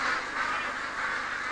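Ducks on an intensive poultry farm quack and honk in a dense, continuous chorus, many birds calling at once indoors at a steady level with no talk.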